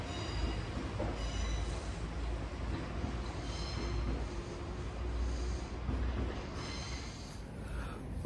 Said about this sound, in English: there goes the train that brought me in from Birmingham New Street, 172334